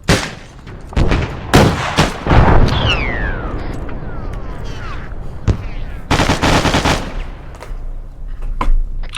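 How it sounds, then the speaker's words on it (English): Rapid bursts of automatic gunfire in a tactical shooter game, loud and dense, with volleys at irregular intervals and explosive booms mixed in, and heavier firing picking up again toward the end. "I hear a lot of shots"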